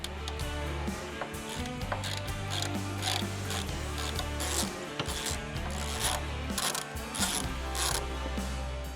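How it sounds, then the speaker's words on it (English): A 5/16 Allen wrench works the top screw out of a Harley-Davidson Touring or Softail floorboard, giving close, continuous ratcheting and metallic scraping with rhythmic clicks over a steady hum, with no voices. "with our 5/16 Allen is remove the top screw."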